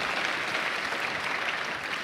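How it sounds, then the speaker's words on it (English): Applause from the audience at a celebration-of-life memorial gathering, steady, fairly loud clapping that carries on without a break and with no voices over it. "Big round of applause for her."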